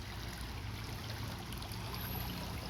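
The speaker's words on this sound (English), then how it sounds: "Got a nice little small like waterfall going on." A creek runs over a small waterfall, giving a steady, even rush and trickle of water at low level throughout, with no voices.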